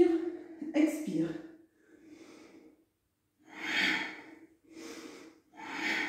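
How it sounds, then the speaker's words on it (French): Slow, deliberate yoga breaths, a long audible inhale and exhale repeated at an unhurried pace, close and fairly soft, with a voice speaking gently between and over the breathing. "Inspire, expire."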